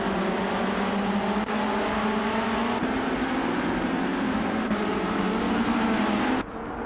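Vintage race cars push hard around a track with tight corners, their engines a dense, continuous close-up roar that holds steady for several seconds before dropping slightly at the end.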